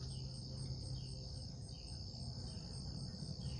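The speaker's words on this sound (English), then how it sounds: "This is a cicada." A steady, loud insect drone with a sharp buzzing pulse, continuous and close, like a cicada calling without pause.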